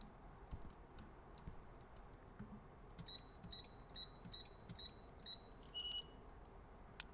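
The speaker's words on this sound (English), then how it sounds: "it takes 7 numbers before beeping" A video game keypad gives a row of bright electronic beeps, one per press, roughly evenly spaced, then a final quick double tone after the seventh digit, all faint over a quiet background.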